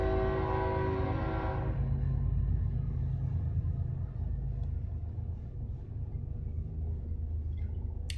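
A train in the game Kessen 2 sounds a long horn that cuts off after about two seconds, then a steady, loud low rumble rolls on without a break.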